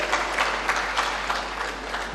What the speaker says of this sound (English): I think we deserve some clap here.